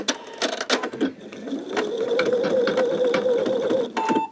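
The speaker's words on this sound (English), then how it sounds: "I go ahead and start, and start our stitching" A sewing machine stitches through a paper greeting card backed with peel-and-stick stabilizer, running in a steady, close mechanical whir for a few seconds after short stop-start bursts, then halting.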